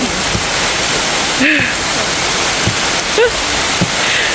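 Steady heavy rain pours outdoors in a rural countryside setting, a dense continuous hiss close around, with a few brief voice sounds breaking through the downpour.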